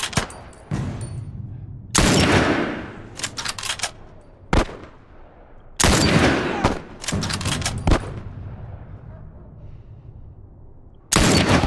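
Gunfire in The Last of Us: loud bursts of shots and gunfire volleys recur through the stretch, each sharp onset trailing into a decaying rumble.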